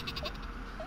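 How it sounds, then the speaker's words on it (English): A super sheep in the Worms video game gives a short cartoonish bleat, one brief sound effect over a steady game background with no talk. "Super sheep can fly. That's why it's got the cape on it."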